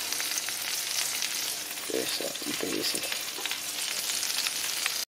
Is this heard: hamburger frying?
yes